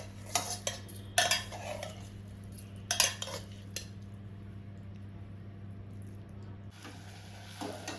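A spoon scrapes and clinks against a pot while a broad bean curry with tamarind, jaggery and rice flour is stirred as it simmers. The clatter comes in short bursts over a steady low hum of the stove, with no talking.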